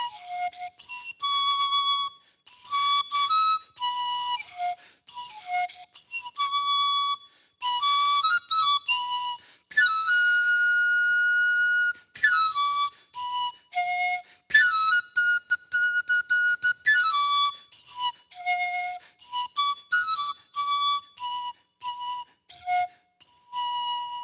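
Short whistle pipes made from feather quills of different sizes, cut to set their pitch like reed flutes, sound pure glassy tones at several heights, played in clear bursts and phrases with pauses between, alone and close.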